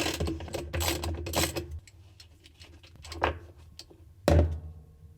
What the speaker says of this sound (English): Now, using a 10mm socket, remove this bolt.